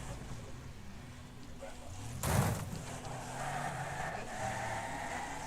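Race car engine in the video game Wreckfest, droning steadily while the car drifts wide through corners, with one sharp crash or impact burst partway through and other cars' engines faintly around it.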